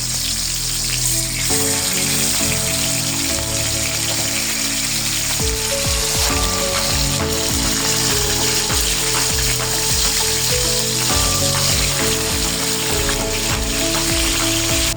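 Galunggong fish fry in hot oil with a steady, dense crackling sizzle throughout, loud and close, with background music running under it and no talking.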